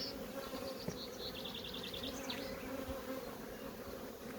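Honeybees hum in a steady, dense drone around an opened beehive during an apiary inspection, with faint higher buzzes drifting in and out over the continuous low hum.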